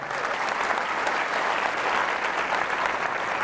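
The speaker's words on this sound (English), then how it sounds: "why don't you give yourself a round of applause for that" A concert crowd applauds steadily, a dense, loud wash of clapping that holds at an even level throughout without any voices on top.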